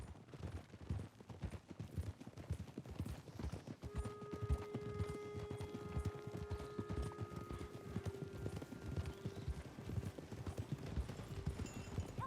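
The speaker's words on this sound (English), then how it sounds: "All these little carriages in my way." Horse-drawn carriages in Red Dead Redemption 2 clip-clop along in a steady, brisk stream of hoofbeats, fairly faint, with a soft musical tone drifting in behind.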